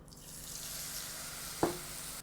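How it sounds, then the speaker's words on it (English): Quiet, steady sizzling of squid being double-fried in oil, close by, with a single soft knock near the end. "they put it back in the oil for a double fry"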